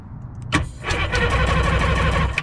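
An old jet ski engine cranks and catches, then settles into a loud, steady running rumble close by.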